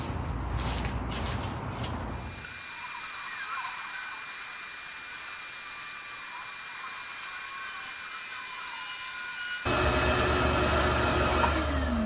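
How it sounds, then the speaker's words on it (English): A shop vacuum sucks up mortar debris from crumbling joints on an old porch, a loud continuous whine and rush with rattling grit at first, then a steadier high drone before a louder burst near the end. "So now I'm gonna vacuum all this stuff up and get it ready for the grinder."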